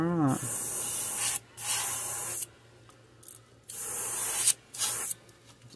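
An airbrush sprays pearl white paint onto a shad-pattern fishing lure in close, loud bursts of steady hiss, about four sprays of one to two seconds each with short pauses between, no talk.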